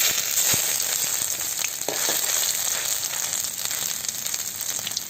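Crushed ginger frying in hot oil with cumin seeds in a pan for a lentil dish, a loud, steady close sizzle with crackling spikes and light stirring, no talk.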